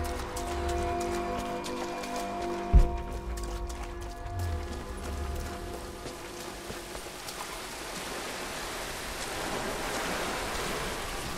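A waterfall in the video game Rise of the Tomb Raider, a continuous broadband rush of falling water that grows louder toward the end, with one brief thump early on.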